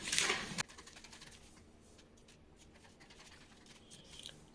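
Scissors cut out a paper bustier pattern with a sharp, close snip at the start, followed by faint, quiet scratchy cutting and rustling.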